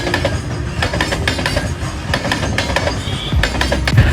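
Train wheels clacking over rail track joints, loud rhythmic clickety-clack beats in quick pairs over a continuous rumbling roll of the moving railcars.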